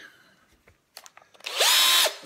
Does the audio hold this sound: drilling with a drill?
yes